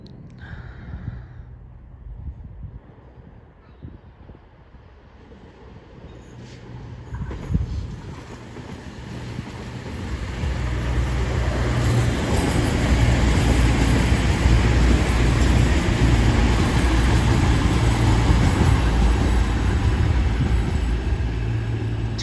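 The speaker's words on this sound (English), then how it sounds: "about to come in now will be a late running cross-country service to Plymouth." A four-car CrossCountry Voyager diesel unit, running late toward Plymouth, pulls into Totnes station. Its engine rumble starts faint and builds steadily into a loud, sustained roar as the train comes close alongside.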